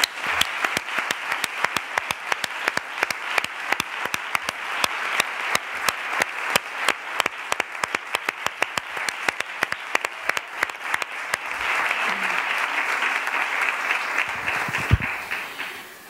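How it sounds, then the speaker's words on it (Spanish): Applause rises from the public at an extraordinary council plenary session for the families of victims of violence against women, a long run of crisp, fairly spaced claps that swells into denser clapping toward the end. "Un aplauso."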